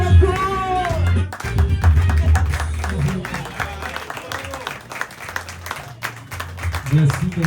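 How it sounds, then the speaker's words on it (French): An audience applauding at a public event, continuous clapping over music and talk, with voices speaking throughout. "on applaudit encore, plus fort, plus fort"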